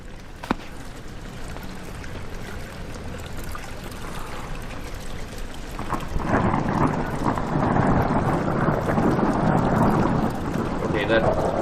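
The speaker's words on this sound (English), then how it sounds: "Okay, that's just the weather. That did sound just like thunder." Thunder in the Amnesia video game, a low rumble that swells halfway through into a sustained roar over a constant wash of rain and water.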